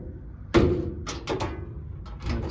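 A cabinet door on a Weber Spirit EX 315 gas grill clicks into place during assembly, a sharp plastic-and-metal snap followed by several lighter clicks and taps, close up.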